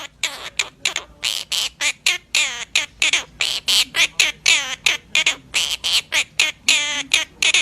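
A parrot sings a song in a string of rhythmic, squawky vocal bursts. The short, evenly spaced notes are close and loud and carry the tune on their own.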